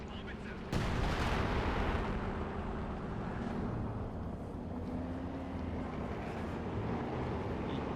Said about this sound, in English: I'm gonna artillery strike called in now